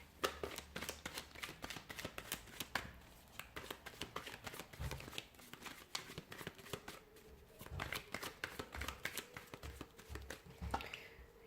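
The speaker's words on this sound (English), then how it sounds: "we'll give the cards a shuffle here" Tarot cards riffle and slap in quick repeated bursts, close and crisp, with brief pauses between rounds of shuffling.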